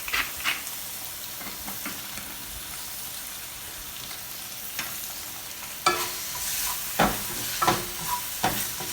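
Green beans and garlic sizzle in a pan, a steady soft frying hiss with several sharper scraping rustles toward the end as the beans are tossed.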